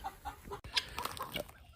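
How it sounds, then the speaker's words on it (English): A chicken agitated at being taken off its nest clucks in a quick burst of short squawks, close and fairly faint, with a small knock in the middle. "There's a chicken in there going nuts because I took it off its nest"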